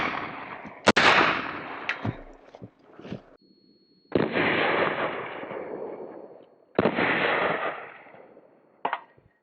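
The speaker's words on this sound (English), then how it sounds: "some 45 grain ball coming out of my CMMG Banshee" A CMMG Banshee fires .45 ACP ball rounds at a Tacticon lightweight multi-curve armor plate, several loud sharp close shots with ringing decay, spaced a second or more apart.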